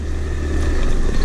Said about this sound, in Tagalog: Scooter lang malakas.